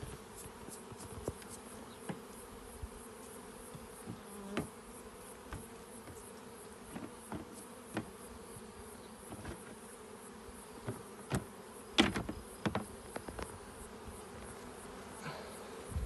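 Steady low buzzing of honeybees at an open hive frame fills the clip, with scattered brief clicks and knocks on top; close and continuous, no voices.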